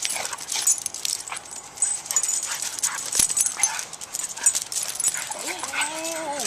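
A dog whimpering and yipping during a barbecue session, thin high whines scattered through a noisy outdoor background, with a couple of clearer rising-and-falling whimpers near the end, fairly faint and mixed with rustling.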